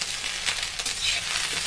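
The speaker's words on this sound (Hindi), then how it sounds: "इसको अच्छे से फ्राई कर लिया है।" Okra (bhindi) fries in hot oil in a pan, giving a steady close sizzle with light crackles and a few soft stirring scrapes, no voices.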